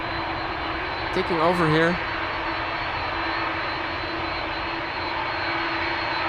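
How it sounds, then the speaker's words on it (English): Steady roar of Delta Airbus A330 jet engines at Amsterdam Schiphol Airport, a constant broadband rumble with a tonal whine, and a brief spoken remark near the start. "Sound of the Delta's A330 engines"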